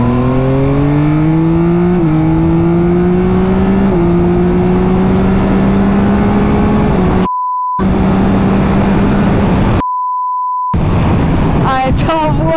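A 2023 Yamaha Tracer 9 GT+ motorcycle pulls hard through the gears, its engine note climbing in steady steps under a rider's voice, then cutting to brief silent gaps with a short electronic beep.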